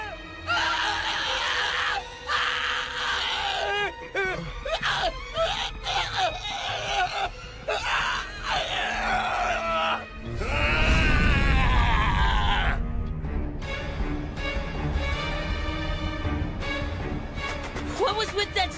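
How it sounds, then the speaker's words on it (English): A person screaming in an English-dubbed anime film, a long raw cry rising out of tense dramatic music and sound effects, loud and close, with voices around it. "What was with that scream?"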